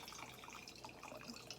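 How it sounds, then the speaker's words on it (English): Hot water trickles through a funnel into a glass jar, a faint, steady, continuous pour with no voices. "I'm going to use my funnel to carefully put some of this hot water into my"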